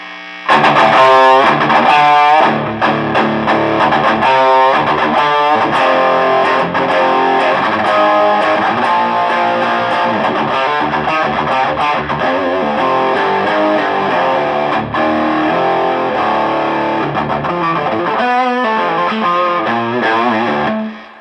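An electric guitar plays through a cranked Fender Hot Rod Deluxe amp at heavy gain, a loud, dense, continuously distorted riff that rings out unbroken for about twenty seconds before cutting off.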